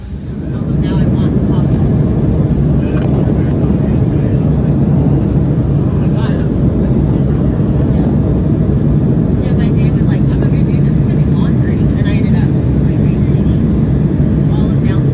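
Steady, loud broadband roar of an airplane cabin in flight, heard from a window seat, a constant engine and air rush filling the whole stretch with no break.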